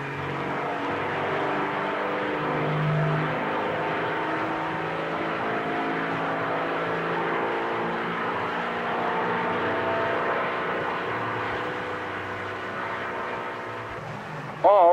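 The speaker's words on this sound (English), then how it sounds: "Another Silver Diamond engine, this one under full load on another dynamometer." An International Silver Diamond truck engine runs under full load on a dynamometer, a steady, dense mechanical drone that holds constant throughout before a brief change at the very end.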